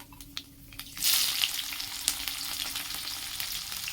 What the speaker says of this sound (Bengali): রসুন কাঁচা লঙ্কা এই ফোড়নেই দেবে একসঙ্গে ভাজবে